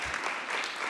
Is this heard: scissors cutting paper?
no